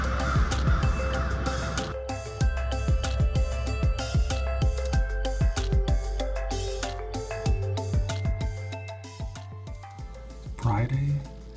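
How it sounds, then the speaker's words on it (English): Many crows caw repeatedly outside a hospital building, a dense series of harsh calls at varying distances with a person speaking over parts of it. "it's currently a crow convention right now for some weird reason"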